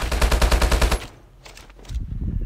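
Automatic gunfire in the mobile game Call of Duty Mobile, a rapid loud burst of about a dozen shots, then a pause and a few fainter shots and clatter.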